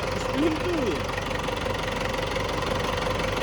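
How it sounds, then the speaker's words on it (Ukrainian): A tractor engine runs while moving, a close, steady diesel chug with rhythmic knocking pulses throughout, and a brief voice-like sound early on. "А трактором двигається."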